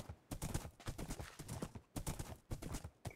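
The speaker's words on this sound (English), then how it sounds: "these horses are really cool" Horse hooves clip-clop in a quick, steady rhythm in a video game, loud and close, with a brief pause before the galloping beat resumes.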